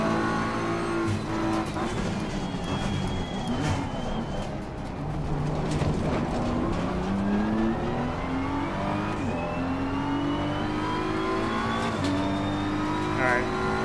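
A race car laps a track in the video game Assetto Corsa Competizione, its engine revving up and down through gear changes in a continuous, steady drone. Someone speaks over it at times.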